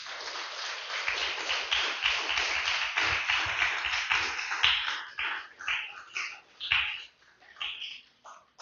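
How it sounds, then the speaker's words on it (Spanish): A church congregation claps together in praise during a Spanish-language service, a dense, rapid patter of many hands that swells steadily, then breaks into uneven bursts before fading. "Den un fuerte aplauso al Señor"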